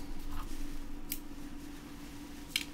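Scissors snipping strands of pearl beading web for a craft project: two brief, crisp snips about a second and a half apart over a faint steady background hum.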